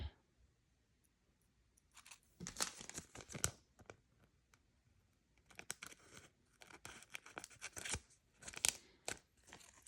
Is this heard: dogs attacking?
no